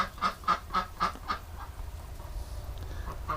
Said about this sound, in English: all the ducks get upset here